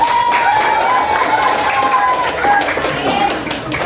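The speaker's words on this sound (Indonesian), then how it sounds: "Tepuk tangan buat dia semua." A room full of students claps and cheers in a lively burst in a classroom, with voices mixed into the applause throughout.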